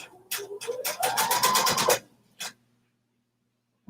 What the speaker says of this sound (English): I'm going to sew the length of the tube.